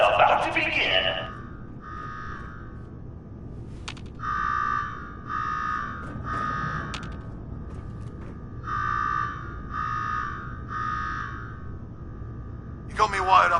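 An alarm sounds in the video game Fallout 4 Nuka-World, a series of repeated buzzing electronic blasts in bursts of two and three with short gaps, with brief voices at the start and end.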